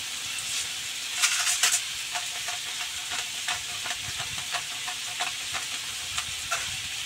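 Asparagus and crabstick stir-fry in a pan with a steady, close sizzle and light scraping stirs at a loose, regular rhythm throughout.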